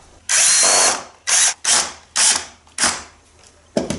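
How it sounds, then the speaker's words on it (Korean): Power drill driving a fully threaded screw into pre-bored wood, heard as a long whirring burst followed by several shorter spurts in quick succession, loud and close with no talking. "일단 전체 나사산으로 못을 박아보도록 하겠습니다"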